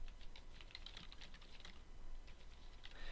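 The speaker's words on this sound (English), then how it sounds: "I'm going to go ahead and type in Cal State Los Angeles." Fingers tap a computer keyboard in a continuous run of quick keystrokes, close but soft over a steady background hiss.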